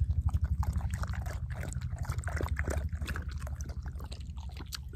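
Water pours and trickles steadily from a container at a desert campsite, with a low rumbling hum running underneath the close, continuous splashing.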